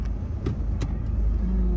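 Car traffic runs along Davao Coastal Road in Davao. A steady low rumble of passing vehicles is broken by a few brief swishes from cars going by close, with no talking.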